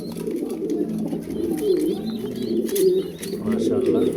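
A breeding pair of pigeons, a light silver-coloured male and a female, coo steadily and close by in soft, rolling bursts, with someone talking over them.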